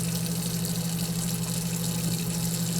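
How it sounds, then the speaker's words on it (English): Cold tap water runs steadily into a bowl being rinsed out during a summer bedroom deep clean, a constant close hiss of flowing water with a low hum underneath and no talking. "Rinse it in cold water. Rinse the bowl out because I want that to sit"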